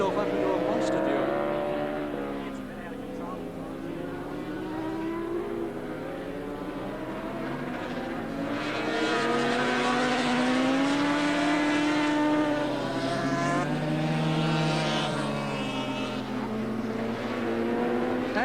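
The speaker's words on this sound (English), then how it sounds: "the big 750 Yamaha gave a big kick there as Dowson tried to get the power on" Big 750 Yamaha racing motorcycles during a 1984 Swann Series race at Oran Park, their engines droning and rising in pitch at a distance beneath continuous race commentary.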